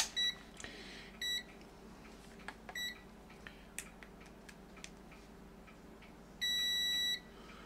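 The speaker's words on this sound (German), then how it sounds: "Und jetzt wird mal mit dem Piepser gepiepst." A piezo beeper on a homemade serial-to-USB circuit board gives short, faint, high beeps at irregular intervals, then one longer beep near the end, over a quiet hiss and small clicks.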